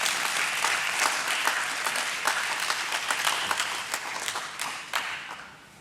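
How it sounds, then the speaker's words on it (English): A round of applause from the audience at the India Pesticides Limited stock listing ceremony, dense steady clapping at moderate level that thins and fades toward the end. "Thank you for that round of applause."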